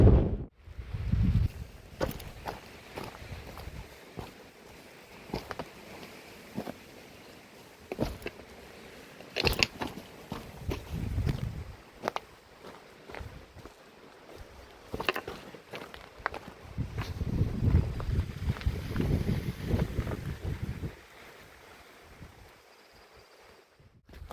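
Gusty wind buffets the peak of Wildcat Mountain in the White Mountains, rushing in uneven bursts and swells, with scattered footsteps and rustling underneath.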